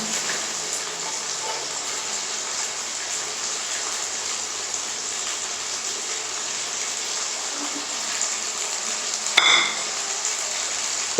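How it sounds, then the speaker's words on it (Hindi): Garlic frying in two to three tablespoons of oil in a pan gives a steady, close sizzle throughout, with a single brief clink near the end. "लहसुन जब हमारा अच्छे से फ्राई हो जाएगा"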